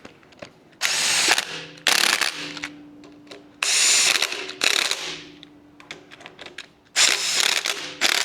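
An impact wrench tightens bolts on a 434 stroker small-block Chevy engine, firing in several loud, close bursts of rapid hammering rattle about a second long each, separated by short pauses.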